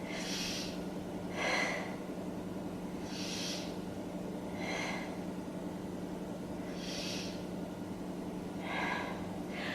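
Slow deep breaths during a beginner yoga neck stretch, about seven audible airy inhales and exhales in an even rhythm, close and soft, with no talking.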